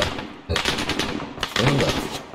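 ARMA 3 video game gunfire bursts out in two loud automatic volleys separated by a short gap, with a faint voice briefly heard beneath the shots.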